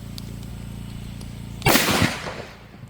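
A single loud shotgun blast cracks out over a steady low hum, then its echo decays over the next second.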